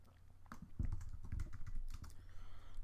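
Keystrokes on a computer keyboard while filling in a blank score setup in Sibelius notation software, rapid irregular clicks close up with no speech.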